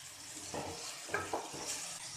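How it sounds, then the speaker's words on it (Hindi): White mash dal is stirred in a pot, with quiet scraping and a few soft clinks of a spoon over a low background hiss, faint and close. "अब इसको अच्छे से मिक्स कर देंगे दाल को"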